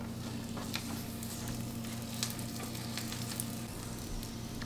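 Homemade scallion pancake frying in oil in a pan, a steady, close sizzle with faint crackles running continuously throughout, no talking.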